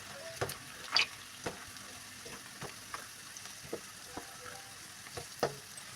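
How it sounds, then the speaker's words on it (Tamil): Beans and carrot sauté in a pan for egg noodles, a soft, quiet sizzle punctuated by regular clicks and scrapes of a spatula stirring, with no one talking. "வதக்கி விட்டுக்கலாம் இது கொஞ்சம் வதங்கிடுச்சு அப்படி கேரட் போட்டுக்கோங்க"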